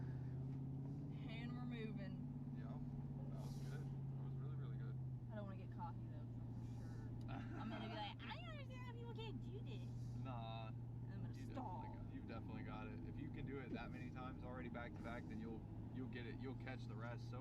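A manual car creeps slowly across a parking lot with a steady low engine drone throughout, while a voice talks over it.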